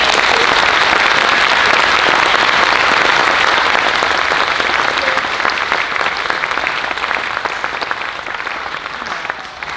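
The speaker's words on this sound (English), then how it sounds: "How about one more round of applause for our graduating seniors" Sustained audience applause for graduating seniors at a school spring band showcase, a dense, steady wash of many hands clapping that fades slightly toward the end.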